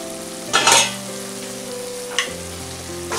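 A covered pan of Indian mushroom and pea (matar) curry cooking after water was added, with a steady soft sizzle and a couple of brief stirring scrapes, alone and without voices.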